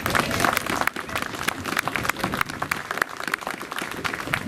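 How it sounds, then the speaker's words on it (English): An audience at a heritage tribute garden event in Ballyfermot breaks into steady, dense applause, many hands clapping at once in a sustained, fairly loud burst with no break. "And a round of applause please for our committee."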